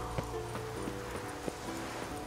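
Horse hooves clip-clop at a steady riding pace in The Witcher 3: Wild Hunt, repeated thuds over a constant bed of game ambience and music, moderately close.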